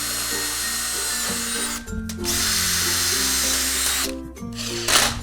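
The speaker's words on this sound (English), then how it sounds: "just drill straight through that into the other channel" A power drill bores holes through the steel channel of an Absco flat-roof aviary and chicken coop frame. Its loud, steady whine shifts in pitch, with short breaks near two and four seconds, and no voices.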